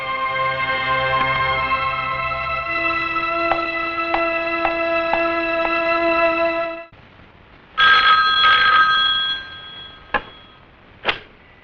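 A telephone rings at a police station, a bright electronic trill repeating in steady bursts for several seconds, then stopping; after a pause, a clatter and short clicks follow, with no speech.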